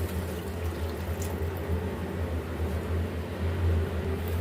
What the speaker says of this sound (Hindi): अब इसमें हम 1 गिलास पानी डालेंगे।